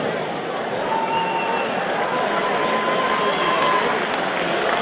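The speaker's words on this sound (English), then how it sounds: "Ladies and gentlemen, round of applause for both fighters." At a fight event, an arena crowd applauds both fighters after the bout: a dense, steady wash of clapping and cheering that holds at an even level throughout.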